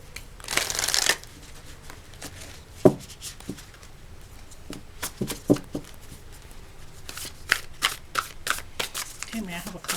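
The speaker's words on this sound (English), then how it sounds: "we're going to pull some cards from the Great Eastern Oracle" Oracle cards are shuffled by hand in a riffling burst near the start, followed by softer intermittent card snaps and handling sounds, with a person speaking throughout.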